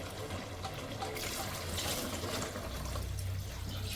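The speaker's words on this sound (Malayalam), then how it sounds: "അപ്പോൾ 5 ഗ്ലാസ് വെള്ളം ചേർക്കണുള്ളൂ." Water trickles and pours into a pressure cooker holding beef and gravy for biryani, a soft continuous splashing stream heard close up without talk.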